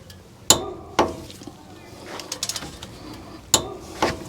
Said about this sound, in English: We still need to torque these caliper bolts to 79 foot-pounds.